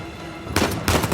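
Gunfire in the video game Uncharted 4: two sharp, loud bursts of shots in quick succession, close and alone without talk.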